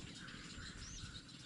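Birds chirp faintly in a Balinese mangrove forest, with thin, scattered calls over a constant hiss of wind and leaves and no talking.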